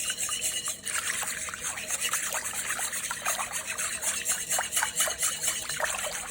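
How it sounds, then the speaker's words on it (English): Warm water and yeast whisked in a bowl for bao dough, a close, continuous quiet sloshing and scraping with rapid irregular ticks of the whisk against the bowl. "Just going to whisk that for a minute until it comes by."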